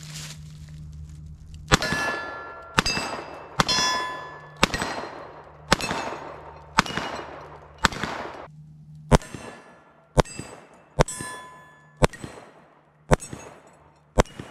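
A Smith and Wesson 686+ revolver fires about a dozen sharp, loud shots at a fairly steady pace, each crack followed by a short metallic ringing decay, with no talking.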